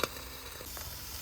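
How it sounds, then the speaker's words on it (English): Sirloin steak sizzles in a pan over a wild-camping stove in Loch Lomond and the Trossachs, a soft, close frying crackle that starts with a brief clatter and then settles into a low, steady sizzle. "That's sizzling away nicely there."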